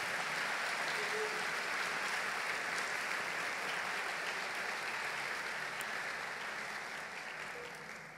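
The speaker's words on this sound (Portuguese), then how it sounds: "Pode aplaudir o Senhor, porque Ele está nesse lugar." Congregation applauding during a church service, a steady wash of clapping that fills the whole stretch at even loudness and tapers slightly at the end, with no talk over it.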